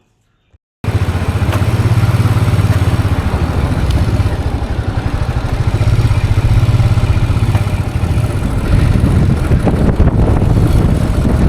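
A motorcycle engine drones steadily and loudly close by on a mountain road in the Spiti region, with wind rumble and a low throbbing hum throughout, rising slightly toward the end.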